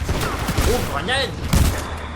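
Gunfire rattles in the video game Titanfall 2 as rapid bursts of shots rolling through the mix, with someone talking excitedly over the action.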